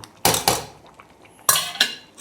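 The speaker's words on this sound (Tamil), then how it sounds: "இப்போவே கொட்டி நல்லா கிளறி விட்டு மூடி வச்சுருங்க" A metal spoon scrapes and knocks against a pot as grated coconut is stirred into boiling meat curry, sharp clanks in two quick pairs, close and loud, with no talking.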